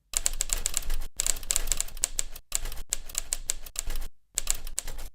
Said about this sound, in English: you can turn on sound mode and hear yourself typing just as though you're on a typewriter